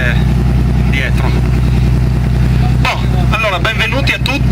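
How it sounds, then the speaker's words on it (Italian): A boat engine runs with a loud, steady low drone throughout, while someone talks over it close by. "devo tenermi il rumore del motore dietro"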